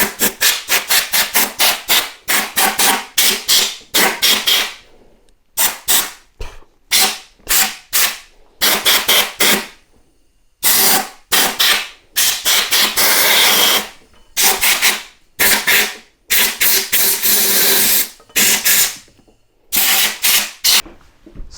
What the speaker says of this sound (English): So I'm going to blast some air in there just to blow out some of the gasket particles that are in there.